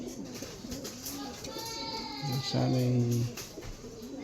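Young pigeons or doves in training coo and call softly, with a louder cooing burst near the middle, while someone talks throughout.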